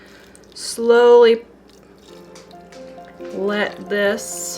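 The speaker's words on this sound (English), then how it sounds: "I just pour my lye in with my oils and let the lye water that's very hot melt all my oils" Very hot lye water poured over oils for shea butter soap, melting the coconut oil on top: a soft liquid pouring and dripping under a woman's close, steady talking.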